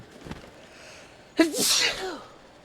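A single sharp, close sneeze bursts out loudly after a quiet moment and trails off, with a brief voice sound just before it.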